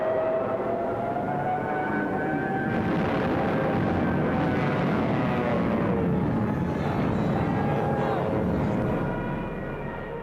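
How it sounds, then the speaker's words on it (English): German Stuka dive bombers in a World War II setting drone loudly overhead, a sustained engine roar with wavering, siren-like rising and falling tones that fades slightly at the end. "with Stuka dive bombers blitzing just ahead of them."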